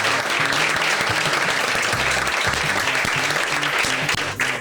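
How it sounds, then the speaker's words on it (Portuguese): A lecture audience breaks into dense, loud, sustained applause, continuous clapping that fills the room and starts to thin only at the very end. "essas meninas também merecem uma salva de palmas pelo trabalho que elas fazem"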